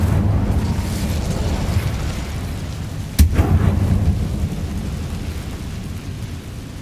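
The Incendio fire spell in Hogwarts Legacy, a sudden sharp burst partway through over a low rumbling bed of game sound, followed by a roaring whoosh that slowly fades.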